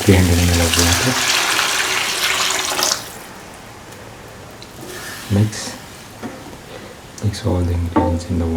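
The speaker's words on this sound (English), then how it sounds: "Now pour in 300 ml of water." About 300 ml of water is poured into a pan of sautéed spinach stew, a rushing gush for a few seconds that then fades to a low simmer, with a person talking over the start and end.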